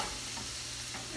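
Onions fry in a skillet with a steady, close sizzle and some stirring, with no talking.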